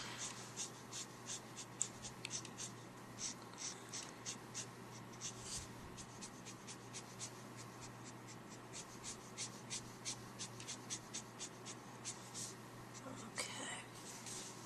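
Copic markers, R89 and R85 reds, scratch across paper in curved coloring and blending strokes. The strokes are close and soft, squeaky and rhythmic, repeating steadily with brief pauses and no talk.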